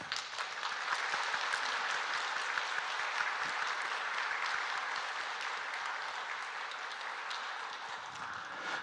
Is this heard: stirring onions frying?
no